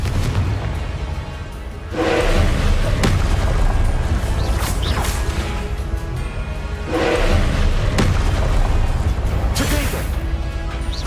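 Repeated spell explosions cast with Confringo in the Hogwarts Legacy video game, two heavy booming blasts a few seconds apart over a continuous rumbling game soundscape, with a voice calling out spell names.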